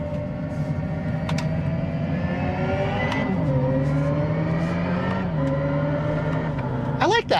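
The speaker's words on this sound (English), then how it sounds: "That sounds like an electric race car slash motorcycle." The Hyundai Ioniq 5 N electric hot hatch plays its synthetic engine sound, a steady droning tone that rises and drops in pitch like a shifting motorcycle, fairly close, with a short sharp sweep at the end.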